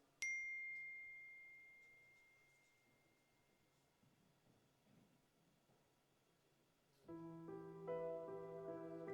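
A single sharp phone notification ding sounds during a live concert, then rings out and fades slowly, followed later by music starting up.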